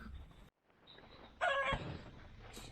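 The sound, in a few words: chickens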